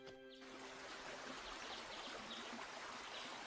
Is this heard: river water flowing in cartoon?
yes